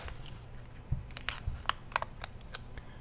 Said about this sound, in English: I'm gonna have to slice this tape over here to do that.